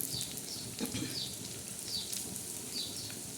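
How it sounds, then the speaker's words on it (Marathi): Coriander vadis shallow-frying in a little oil on a flat tava give off a soft, steady sizzle and crackle, faint and continuous throughout, with a few light chirps in the background. "असं तेल पसरलं का पुऱ्या वड्या अशा मस्त खरपूस अशा लालसर भाजल्या जातील"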